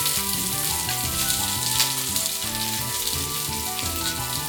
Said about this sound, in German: Dann die Spitzpaprika kurz braten.